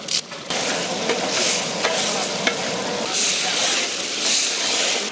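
Onion, tomato and curry leaves sizzling and frying in a pan, a steady loud hiss with stirring scrapes and small pops throughout, with a voice faintly present.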